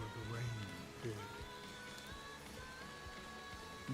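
Rain falls in the video game Honkai Star Rail as a soft, steady patter, faint and continuous, with a few tonal game sounds drifting underneath.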